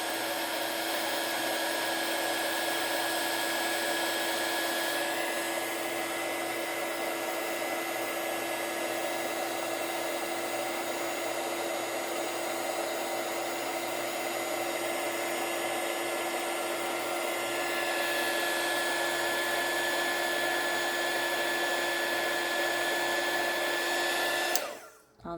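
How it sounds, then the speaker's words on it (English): A heat gun blows continuously at close range while heating embossing powder on an envelope, a steady loud airy whoosh with a slight shift in pitch partway through that cuts off abruptly at the end. "It does not feel good when you get too much heat from your heat gun on your fingers."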